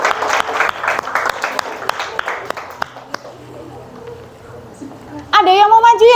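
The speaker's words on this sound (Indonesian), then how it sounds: "Oke, tepuk tangan buat kalian semua" A classroom of students claps in a short burst of applause that fades after about three seconds, followed by quiet and then a voice speaking close by.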